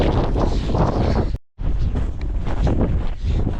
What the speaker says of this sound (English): the wind is about 50 kilometers an hour up here